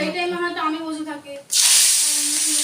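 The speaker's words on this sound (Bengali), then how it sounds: "এই যে মাছ ভাজা বসিয়ে দিয়েছি" A voice talks briefly, then a hilsa fish head goes into hot oil and sets off a sudden loud, continuous frying hiss that fills the rest of the moment.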